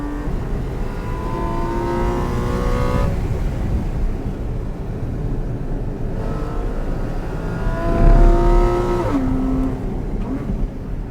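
A sports car engine accelerates and revs through gears from inside the cabin, rising pitch sweeps repeating twice with a gear change between, a steady loud road rumble underneath and no talking.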